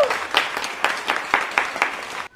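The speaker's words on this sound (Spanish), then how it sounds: "¡Un aplauso!" A small group applauds a finished belly painting on a pregnant sister, a short burst of close clapping with a few accented claps and voices briefly under it.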